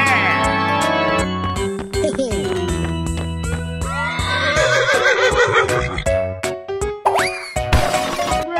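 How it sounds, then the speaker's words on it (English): A horse neighs amid a busy mix of animal calls and cartoonish game sound effects, with boings and crashes layered over steady tones and occasional voices in an animal battle game. "Horse."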